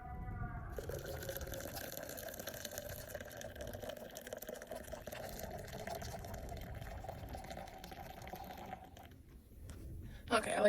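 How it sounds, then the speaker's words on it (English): Water poured into a mug of coffee at a dispersed car-camping site, a steady liquid pour with faint dripping running for about nine seconds, moderately quiet, with background voices underneath. "so I'm not going to put a lot of water in there."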